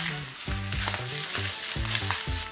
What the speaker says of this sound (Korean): 어차피 고기는 익었으니까 30초만 더 볶아주시면 완성입니다.